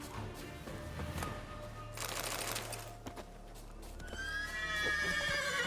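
Roach the horse in The Witcher 3: Wild Hunt lets out a loud whinny, with hoof clip-clops and game effects around it and a rising neigh dominating the final seconds.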